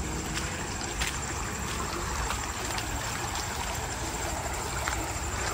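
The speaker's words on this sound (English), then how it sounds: "Oh, I love the sound of that water." Water flows steadily in Campbell Creek beside an abandoned grist mill, a continuous close, moderately loud trickling rush with no break.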